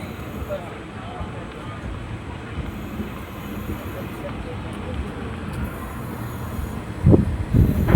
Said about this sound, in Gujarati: પછી હાલો આપણે અહીંથી ટ્રેન નીકળી જાય.